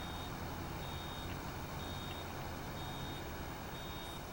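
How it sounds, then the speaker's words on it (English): Hay baler in a farming video game on Ronida Island giving a steady, faint electronic beeping tone over a continuous low engine drone. "I hear the baler beeping."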